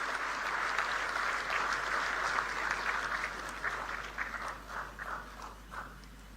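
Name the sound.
applause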